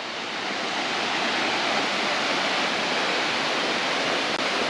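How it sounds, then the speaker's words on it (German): Continuous loud rushing roar of a waterfall in Sri Lanka, a steady dense wash of falling water with no other sounds. "Nächster Wasserfall"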